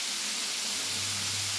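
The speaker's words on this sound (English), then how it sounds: "So it's frying." Food sizzling in a cast iron skillet over medium heat, a steady soft hiss with a faint low hum underneath, no voices.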